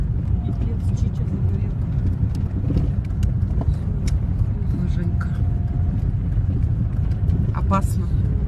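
Cars drive through thick smoke from steppe fires, their engines and tyres a steady low rumble, with faint talk and a few brief clatters on top.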